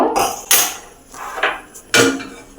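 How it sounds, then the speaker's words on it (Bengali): A metal karai (wok) is set down on a gas stove in a home kitchen, giving several sharp, close clanks and knocks spaced irregularly with short quiet gaps between them. "আমি একটা কড়া বসিয়ে নিয়েছি বন্ধুরা"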